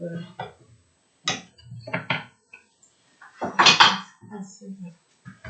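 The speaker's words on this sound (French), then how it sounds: "Maintenant, vous allez me voir en train de couper. Je fais comme ça." Knife cutting food on a board during home African cooking, a few short clustered chopping knocks and clatters between stretches of speech, close and fairly loud.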